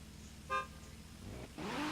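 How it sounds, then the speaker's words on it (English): A car horn in an Xbox racing game gives one short, clear honk, followed by the low drone of an idling engine that rises as the car starts to move. "So, Dragon, when ready, honk your horn, and then you may go."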